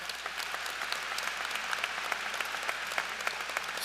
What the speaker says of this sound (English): Yeah, let's applaud for that.